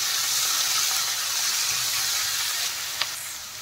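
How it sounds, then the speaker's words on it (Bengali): Capsicum and two medium chopped tomatoes frying for paneer bhurji, a steady close sizzle with light stirring, a brief scrape or clink near the end. "ক্যাপসিকাম দিয়ে দেওয়ার পরে আরেকটু নেড়ে চেড়ে ভেজে নিচ্ছি।"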